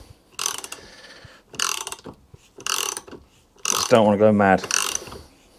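Ratcheting clicks come in repeated bursts as the spring mechanism of a 1930s Ransomes Atlas Mk1 vintage lawnmower is wound up by hand, close and crisp, with a short spoken remark over one burst.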